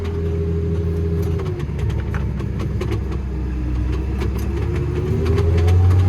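A 300 hp tractor engine rumbles at idle close by while spreading dung, its pitch rising partway through as it revs up and holds louder toward the end.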